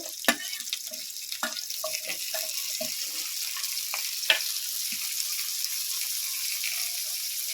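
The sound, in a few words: tomatoes added to a frying pan for chicken do pyaza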